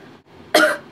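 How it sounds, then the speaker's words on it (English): A single sharp, close cough bursts out once, loud and alone against a quiet room background. "I just turned on my light with my cough"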